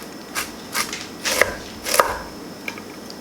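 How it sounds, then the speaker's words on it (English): A knife slices through about a cup of cabbage on a board, finely cut in several separate crisp strokes spaced roughly half a second apart, close and moderately loud, with no talk. "We're going to begin by slicing up about 1 cup of cabbage."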